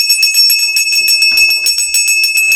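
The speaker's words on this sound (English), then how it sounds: "Ring the bell, all everybody." A small bell rung repeatedly during a Hindu prayer offering, a rapid, loud, continuous ringing with bright sustained metallic tones and steady rhythmic strokes, with no voices.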